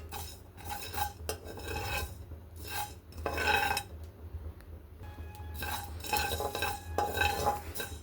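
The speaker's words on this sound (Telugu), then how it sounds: "ఒక స్పూను మెంతులు, 2 ఫ్రై చేసుకోవాలి." A spoonful of fenugreek seeds stirred in a pan over low heat, with repeated metal spoon scrapes and clinks against the pan in uneven bursts, close and fairly quiet, with only a faint sizzle.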